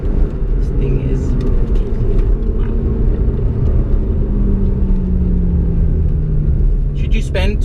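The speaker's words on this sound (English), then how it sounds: "I do love when the turbos pull up, you hear it and feel it." A turbocharged 2017 McLaren 570GT gives a deep, steady engine rumble from inside the cabin, with boost building underneath and someone talking over the low drone throughout.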